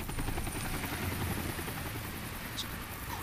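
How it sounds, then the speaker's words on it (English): A helicopter from the video game Deadlight drones steadily with a dense, rushing rotor and engine roar that holds constant throughout, with no voices over it. "That's the helicopter chasing my friends."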